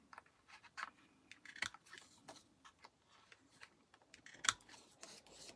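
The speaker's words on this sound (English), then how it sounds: "If you don't have a corner rounder, just round it with your scissors." Scissors snip around the corners of paper for a folio, giving a series of quiet, irregular, close-up cuts with faint rustling between them.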